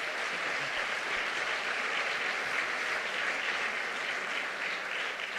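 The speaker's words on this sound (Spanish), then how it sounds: "Merece un aplauso, claro que merece un aplauso" An audience at a political talk in Bolivia claps in sustained, dense applause, a steady even wash of hand claps at moderate distance with no pauses.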